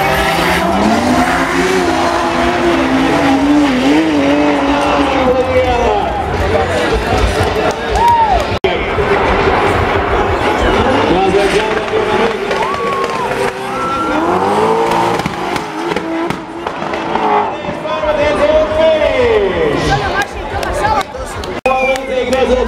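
Two drift cars sliding sideways on the course at the Eastern Europe Drift Championship 2014, engines roaring loudly and continuously with tire squeal and shifting revs, under constant commentary.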